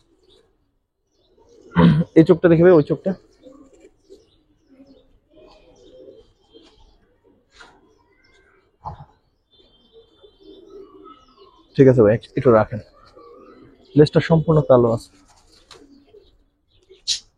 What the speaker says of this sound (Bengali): এটা হলো মাদি কবুতর মাশাআল্লাহ